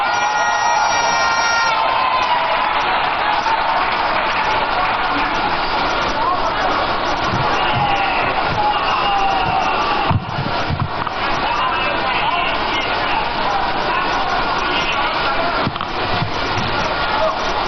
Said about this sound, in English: with a round of applause, welcome to the microphone the Minority Leader, Honorable Dr. Atoforsen.